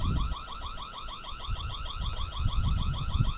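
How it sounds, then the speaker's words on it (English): A Dzees security camera's built-in alarm sounds a rapid, warbling electronic siren with repeating rising sweeps, steady and fairly loud, over a low rumbling background. "Got a built-in alarm."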